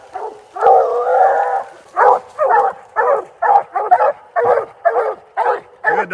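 Hunting dogs barking and bawling at a raccoon up a tree on a rainy night, a long drawn-out bay followed by a rapid series of loud, close barks.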